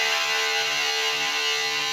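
A heavily distorted electric guitar plays a power chord pattern from a riff, a dense, buzzing wall of sound with rhythmic low chugs throughout, loud and steady.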